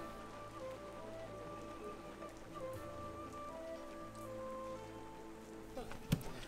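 Steady rain falls outdoors at a koi show in bad weather, a soft continuous patter with a faint low hum underneath and one sharp knock near the end.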